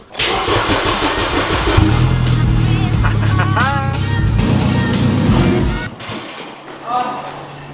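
A turbocharged K20-swapped Honda Civic cranks and fires up close by, settling into a loud rumbling idle with a few revs, while people talk over it; the engine cuts off near the end.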